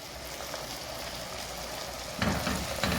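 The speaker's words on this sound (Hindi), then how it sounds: "हम इसमें टमाटो पेस्ट ऐड कर देंगे और साथ ही ग्रीन चिली जो हमने ग्राइंड की हुई है ऐड करेंगे" Tomato paste and ground green chili frying in a pan for chana masala, a steady sizzle throughout that turns louder and more crackling near the end as the paste hits the hot oil.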